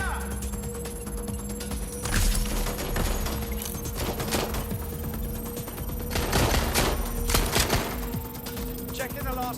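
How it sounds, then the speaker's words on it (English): Gunfire in the video game Watch Dogs: Legion, dense bursts of shots crackling over a steady mechanical hum, with loudest volleys clustered in the middle and later, and voices mixed in. "I'm taking fire!"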